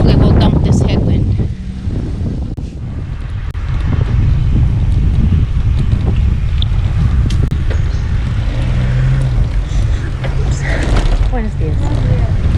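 Strong headwind buffets the microphone of a cyclist riding through the Yucatán, a loud, gusty low roar that continues throughout, with a voice briefly talking under it.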